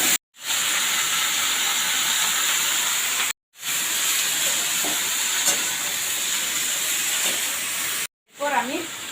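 Vegetables hit a hot pan of fried spices and crushed garlic, giving a loud, steady sizzling hiss that breaks off briefly twice, with a short voice near the end.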